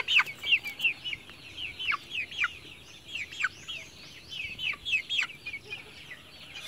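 Three-week-old dragon (Dong Tao) chicks on a farm give repeated high, thin peeps and chirps at a steady pace, close and fairly clear, with no speech.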